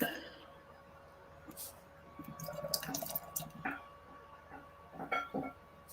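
American blonde ale poured into a glass, a soft, faint trickle and fizz with small splashy bursts building toward the end, quiet and close.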